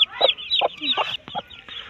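Hen clucking beside her chicks in a nest with an unhatched egg, a series of short, close, fairly loud clucks and brief calls in uneven rhythm.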